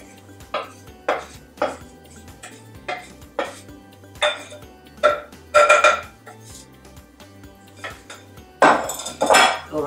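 Blueberry muffin batter stirred in a bowl with a utensil, giving a series of irregular clinks and scrapes against the bowl, fairly close and moderately loud, with quiet gaps between strokes.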